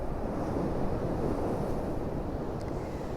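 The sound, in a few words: sea waves crashing at high tide, Blackpool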